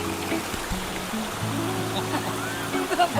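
A flowing stream or small waterfall rushes steadily nearby as a continuous broadband wash, while people talk over it.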